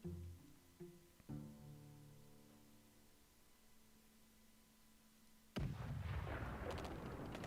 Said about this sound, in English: So the artillery bombardment before the assault doesn't seem super effective.